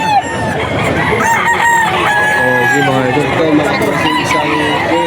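Roosters crow loudly and repeatedly at close range, with clucking fowl all around, in a busy, rainy Bocaue pet market; voices murmur underneath.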